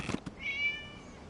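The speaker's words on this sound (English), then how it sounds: "It was just a cat." Cat meowing in the video game Genshin Impact, a single short drawn-out meow after a couple of soft clicks, faint and alone.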